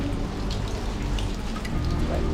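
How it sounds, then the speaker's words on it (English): Steady rain falling around the coastal city of Dubrovnik, Croatia, a continuous close wash of drops spattering on surfaces with no pauses and no talk. "unless it stops raining"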